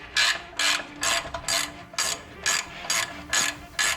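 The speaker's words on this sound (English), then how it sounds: "Got a 13/16 ratchet wrench" A 13/16 ratchet wrench breaks loose a bolt on a 1999-2007 Chevrolet Silverado's upper control arm, sounding as eight loud, close ratcheting bursts in an even back-and-forth rhythm, alone with no voices.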